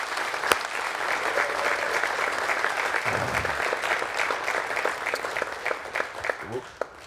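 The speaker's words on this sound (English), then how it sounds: "Men, let's give them a round of applause." A congregation in a church auditorium applauds mothers on Mother's Day, a sustained clapping crowd with a few sharp louder claps, steady throughout and tapering near the end.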